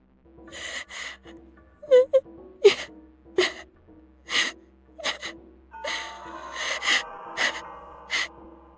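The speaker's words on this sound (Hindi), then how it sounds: "अचानक मुझे किसी औरत के रोने की आवाज सुनाई दी," A woman's wailing and gasping sobs come in repeated bursts with breathy intakes between them, close and eerie, used as a sound effect in a Hindi horror story set on a late-night bus to Dehradun.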